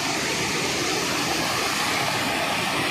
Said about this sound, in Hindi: पहाड़ से मतलब पानी बह के नीचे आ रहा है